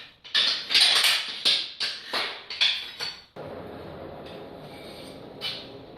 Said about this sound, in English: so I'm just going to adjust my twisting wrench to fit our piece of 1/4 inch loosely